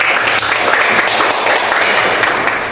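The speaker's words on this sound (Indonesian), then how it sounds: "Tepuk tangan dulu." Applause from a class audience during a student teaching practice session at an Indonesian university, a steady dense patter of clapping that fills the whole moment without a break.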